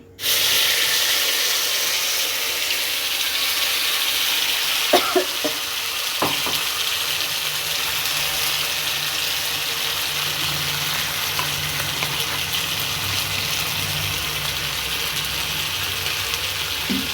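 A tomato, ginger and chili paste for chickpea dal fries in hot oil, giving a steady loud sizzle throughout with a sharper burst of spattering as it goes in, then a few scraping stirs under the hiss.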